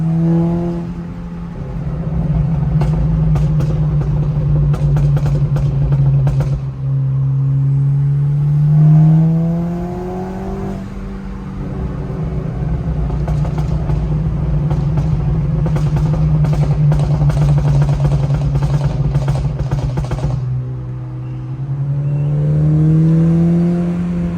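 An Audi revs late at night, its engine note rising and falling in steady sweeps through most of the stretch, with crackling exhaust pops scattered between the pulls, loud and close.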